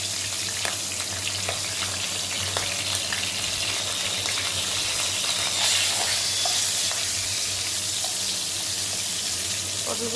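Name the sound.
pointed gourd (potol) frying in oil in a wok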